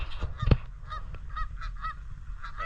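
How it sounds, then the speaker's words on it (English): Geese honking near their nesting grounds on Arcadia Island: repeated nasal honks at a moderate distance, with a louder knock near the start. "the stupid geese aren't shutting up"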